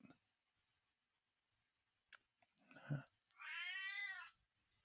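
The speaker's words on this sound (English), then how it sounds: "apparently, I got a cat visiting me." A visiting cat meows close by, a drawn-out, rising and falling call after a few soft rustles and a brief muffled bump, with faint background sound.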